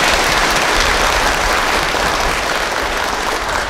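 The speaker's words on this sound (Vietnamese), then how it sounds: "Chúng ta có tràng pháo tay để cảm ơn." Congregation applauding inside a church at a thanksgiving Mass marking the founding of a new parish, a dense, steady wash of clapping from many hands that holds at an even, loud level throughout.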